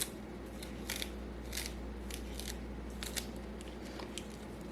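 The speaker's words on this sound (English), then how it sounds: "we're going to cut this up into ribbons, really tiny." Salad greens, cabbage leaves, sliced into thin ribbons, a series of quiet, crisp cutting snips in an irregular rhythm over a low steady hum.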